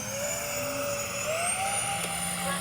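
An X-Fly C-17 Globemaster RC jet makes a slow, low flyby with landing flaps down. Its turbines give a steady, loud whine whose pitch glides gently as it passes, with no voices.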